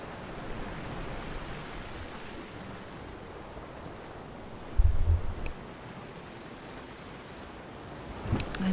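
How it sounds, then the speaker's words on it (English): Ocean surf at Betty's Bay rolls as a steady, broad wash of distant waves, a constant soft roar with a brief louder thump midway and another near the end. "always lovely to hear the sound of the ocean in the background"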